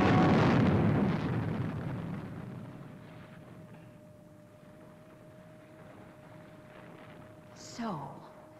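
A missile ignites and launches on a lost-planet sci-fi scene with a loud roaring blast that slowly fades, leaving a steady electronic hum. A brief descending whistle sounds near the end.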